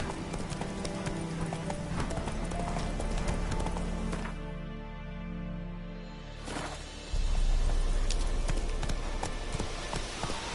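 Horse hooves clip-clop at a steady gallop in The Witcher 3: Wild Hunt, a loud rhythmic pounding that carries on throughout, with a brief dip in the middle.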